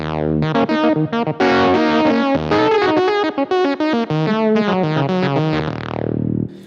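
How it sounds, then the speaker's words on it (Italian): Yamaha CP88 stage keyboard played through a distortion effect, a gritty, loud run of sustained chords and moving notes with brief gaps, ending on a long fading bend. "Distorsione. Le distorsioni sono belle."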